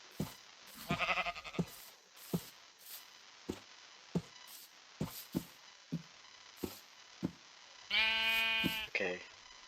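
Minecraft sheep bleat in short bursts, one early and a louder, longer bleat near the end, separated by soft clicks and footsteps, with no talking.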